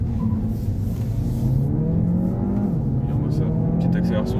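A Peugeot 308 GT pulls hard from inside the cabin, its engine note rising steadily in pitch through the gears under a continuous loud road roar.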